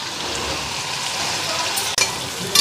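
Steady, close sizzling of dried fish and spices frying in hot oil, with a faint clink of a utensil near the end.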